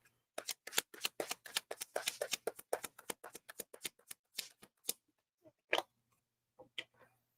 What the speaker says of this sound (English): I had these cards here pretty shuffled